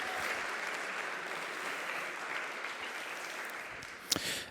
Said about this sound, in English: Give them a round of applause for everything they've organized.